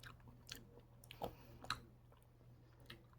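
Honeycomb with its waxy structure is chewed close up, giving faint, sparse wet crunches and bites over a quiet background hum.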